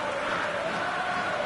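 A stadium crowd in the eFootball 2026 video game roars continuously, a dense, loud wash of cheering and chanting with no breaks.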